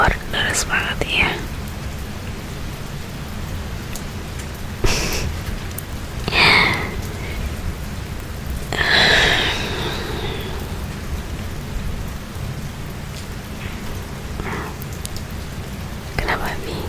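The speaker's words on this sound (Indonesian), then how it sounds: "Hujan di luar deras banget ya." Heavy rain falls steadily outside, a constant wash of noise through the whole stretch, with soft whispering voices and a few breathy sniffs close by over it.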